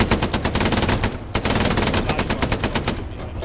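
Rapid bursts of automatic gunfire from the shooter game Hell Let Loose, loud and close, with evenly spaced shots in a steady rhythm, a brief pause after about a second, then another long burst.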